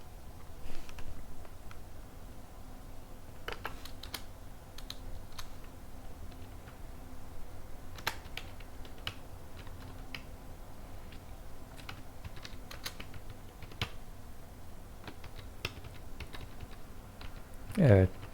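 Steady typing on a computer keyboard while writing a bash script: continuous close key clatter throughout, with occasional louder key strikes and a brief voice at the end.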